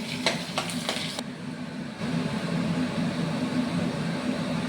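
Continuous sizzling of onion frying in a hot pan, steady and close, with a few brief stirring scrapes early on.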